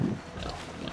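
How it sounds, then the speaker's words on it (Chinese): A wild boar in a video game gives a brief, low grunt at the start, followed by faint background noise. "这明明就是山猪啊"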